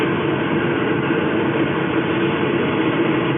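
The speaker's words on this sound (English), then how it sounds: "the car is on. The revs are going." A car engine runs steadily with a continuous low drone, close and even, with no clear rev rise and no talking.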